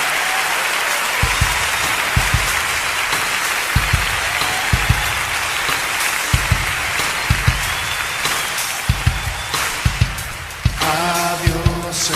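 A church congregation claps loudly at an evening Bible study service, a dense, steady wash of applause lasting the whole stretch, with a brief burst of music or voices near the end.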